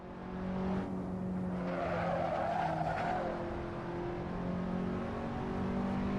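Race car in a racing video game braking hard, tires skidding and squealing in a broad hiss over a steady engine drone, sustained for several seconds with no talk.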